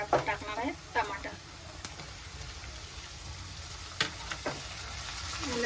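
Onion and tomato fry in a pan for a spinach chicken dish, giving a soft, steady sizzle, with a few stirring scrapes and brief clatters breaking through now and then.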